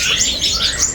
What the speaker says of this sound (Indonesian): ini ada burung kolibri